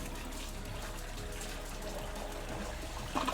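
Water spills and trickles steadily out of a water-cooled PC built into a toilet after a flush, a soft continuous wash of liquid close by, with a brief louder splash right at the end.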